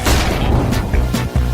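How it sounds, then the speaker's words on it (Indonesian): A loud, sustained boom from an exploding kitchen chemistry experiment, a dense roar with repeated heavy bursts that fills the whole stretch without pause. "Wow, itu ledakan besar."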